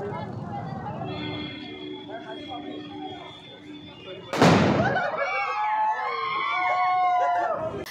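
A rope bomb firecracker bursts once with a sharp, loud bang while being thrown at young tribal women in Jhabua district, Madhya Pradesh, amid a background of voices and commotion before and after.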